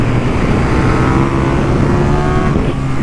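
A KTM 1390 Super Duke R motorcycle engine revving and accelerating hard, a loud, close, rising mechanical roar that holds for the whole stretch.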